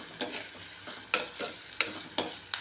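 Sliced onion, green chilies and curry leaves frying together in a pan, stirred with a spatula that scrapes and taps in an irregular rhythm over a soft, close sizzle, no talking.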